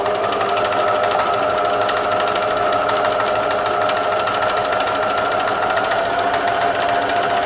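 A sewing machine does free-motion stitching in circular motions through layered lace, paper and cloth, producing a steady, continuous mechanical whir with a fine rapid rattle that holds at an even level throughout.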